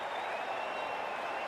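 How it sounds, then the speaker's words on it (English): Stadium crowd applause from the Cricket 24 video game in an IPL match, Rajasthan Royals against Delhi Capitals, rises as a dense continuous roar of clapping, loud and unbroken. "Please give them a round of applause."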